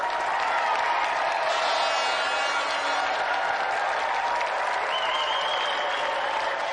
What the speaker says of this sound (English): applause for a brilliant impromptu challenger, Helen Williams.